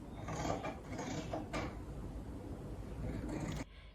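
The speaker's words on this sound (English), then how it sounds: "letting the blades glide through the fabric. The sound is crisp, almost soothing, as each cut shapes the pieces I've imagined." Scissor blades glide through vintage dress fabric, giving a steady soft shearing rustle with a few sharper snips, close and fairly quiet, with no voices.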